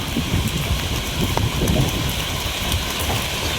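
Steady rain falls over a village on a dark, overcast day during a flood-threatening storm, a continuous close hiss of drops on surfaces with no voices.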